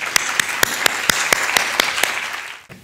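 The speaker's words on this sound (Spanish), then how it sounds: "démosle la bienvenida a Michel con un fuerte aplauso." An audience at a university economics lecture applauds to welcome a vice minister of economy. Dense, even clapping with a few sharp louder claps rises over a steady wash of hands and fades away near the end.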